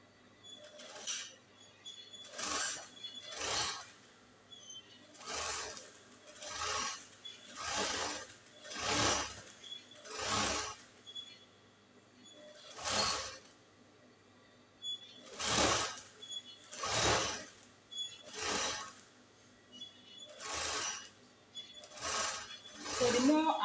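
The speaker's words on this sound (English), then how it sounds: "So I'm sewing back both the front and the back at the same time" A sewing machine stitches the front and back of a smocking blouse together in repeated whirring runs of a few seconds each, separated by short stops, close by over a faint background hum.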